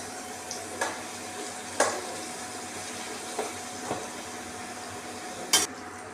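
Jackfruit pieces fry in coconut oil in a pan over low heat with a soft, steady sizzle. Occasional sharp clicks come from stirring against the pan.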